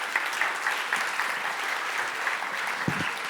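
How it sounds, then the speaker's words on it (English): An audience at a conference talk on agentic AI and multi-agent systems applauds in a continuous, even patter, moderately distant, with a brief low bump near the end. "Yeah, first round of applause."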